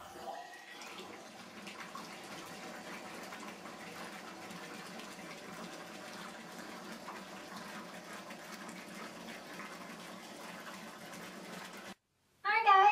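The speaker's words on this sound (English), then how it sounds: "So I am going to fill up my tub the rest of the way" A bathtub filling from the tap, a steady broad gush of running water that continues evenly for several seconds, then cuts off abruptly before a brief louder burst at the end.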